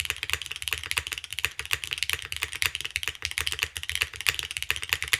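Fast, continuous typing on a Neo75 mechanical keyboard, with bright, crisp clacks in a dense, uneven rhythm, close up and alone.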